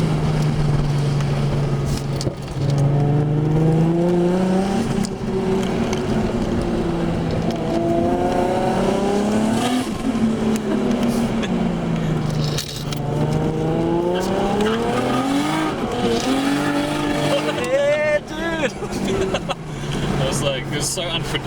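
A Nissan R32 GTR with an RB26DET engine drifting, its loud engine rising and falling through repeated revving swells with sharp turbo flutter near the end, while voices talk over it.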